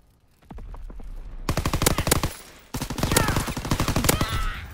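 Call of Duty competitive match gunfire: rapid automatic bursts of loud, closely spaced shots, pausing briefly before resuming in a longer sustained volley.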